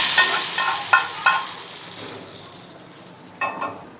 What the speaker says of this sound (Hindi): अब इसमें हम लगाते हैं मज़ेदार तड़का।